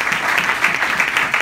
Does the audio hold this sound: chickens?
no